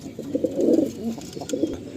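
White high-flying pigeons in a loft, including Chennai and Andhra breeds, coo in soft, rolling bursts, one fuller coo swelling in the middle, close by and fairly quiet with no talk.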